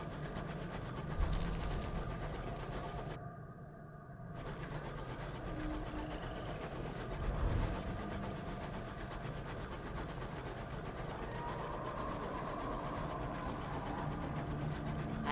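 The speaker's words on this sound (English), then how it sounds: "Please let me know if the train is still too loud." A train engine in the video game Sunless Skies chugs in a continuous, rhythmic clatter that runs the whole way through at a moderate level, with brief game effects layered on top.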